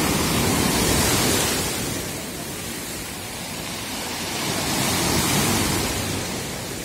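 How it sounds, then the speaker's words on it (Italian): Rough sea at the shore in Spotorno, Savona, with choppy waves breaking in a steady loud wash that swells and eases, alone with no voices. "oggi l'acqua è abbastanza mossa"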